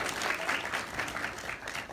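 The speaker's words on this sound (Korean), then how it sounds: "좋은 강의 해주신 정인현 대표님께 다시 한번 큰 박수 부탁드리겠습니다" A lecture audience applauds the speaker after a university finance talk, a sustained round of many hands clapping in uneven swells that never drops away.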